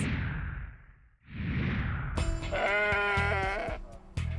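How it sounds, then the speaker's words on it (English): Sheep and goats bleat loudly and close by while being loaded into a trailer, one long quavering cry after a whooshing breathy call, with overlapping animal voices. "So we're gonna load up 30 goats and sheep into one trailer."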